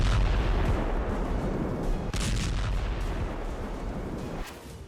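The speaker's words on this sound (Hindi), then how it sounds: "जमीन पर ताबड़तोड़ रशियन मिसाइलें दागी गई, धुआंधार गोले दागे गए।" Russian missiles and artillery shells strike in Ukraine with a dense, roaring barrage of booming blasts, a sharp report near the middle and a further burst toward the end, fading slightly afterward.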